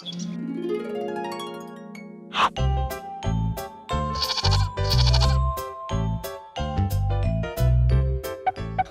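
Cartoon lamb bleating in a high, wavering voice, heard alone at first, then over bouncy jingling children's music with steady percussive beats.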